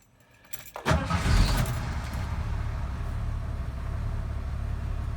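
A 1986 Ford F150 with the 4.9 engine cranks briefly, catches and settles into a steady, loud idle heard from nearby, with a faint jingle of keys at the start.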